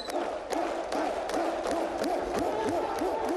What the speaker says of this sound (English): We're going to show you about the slow clap